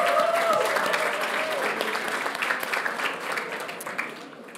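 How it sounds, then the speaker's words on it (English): Audience applause at the 2022 Victorian Aboriginal Honour Roll ceremony, a dense wash of many hands clapping, steady and fairly close, slowly easing off toward the end, with a faint voice and tone briefly underneath. "Can we please give another round of applause to Patrice?"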